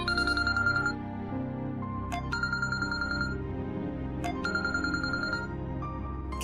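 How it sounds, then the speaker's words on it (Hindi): A telephone bell rings in a domestic setting in repeated bursts, each trill followed by a pause, loud and close over low background music, with no talk. "किसका फोन है बेटा?"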